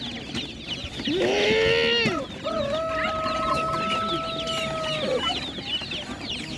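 Chickens and young chicks at a rural village market cluck and call close by, with a drawn-out rising squawk followed by a long sustained call over a busy background.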